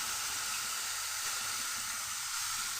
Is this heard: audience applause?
no